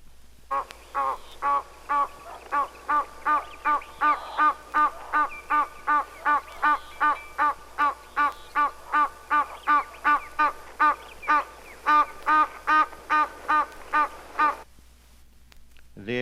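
An Egyptian goose sings a long, steady run of deep, rhythmic honks, about twenty evenly spaced calls repeated for roughly fifteen seconds, loud and clear before stopping abruptly.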